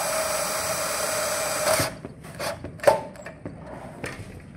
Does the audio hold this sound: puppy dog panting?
no